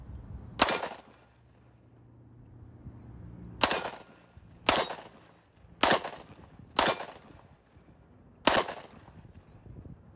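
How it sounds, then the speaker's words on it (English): Six sharp, loud pistol shots from a Springfield XDM 10mm firing 180 grain S&B ammunition ring out at an outdoor range, spaced irregularly over ten seconds with quiet gaps between them. "So let's go ahead and shoot up another mag of the 180 grain S&B ammo"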